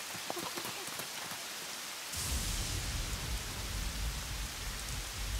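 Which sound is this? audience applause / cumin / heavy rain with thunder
heavy rain with thunder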